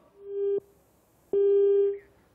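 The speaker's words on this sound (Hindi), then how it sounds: "फोन कट गया" A dropped telephone call ends in a busy signal: two clear electronic tones, one short and one longer, separated by a brief silence and heard alone with no talking.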